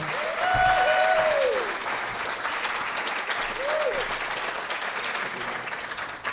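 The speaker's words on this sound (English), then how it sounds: "can we give one more big round of applause to Jeff Goddard?" A club audience gives a round of applause for a guest speaker, steady clapping from a moderate-sized crowd lasting the whole stretch, with a couple of brief whoops or whistles rising above it.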